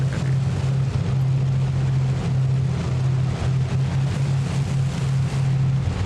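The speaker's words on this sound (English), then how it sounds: "Engine simulator is exhaust sound, I think, and the real life sample is engine sound." Simulated engine drone of a Canadair CL-215 water bomber in BeamNG.drive, a loud, steady, unbroken roar with a strong low hum and rushing, wind-like noise over it.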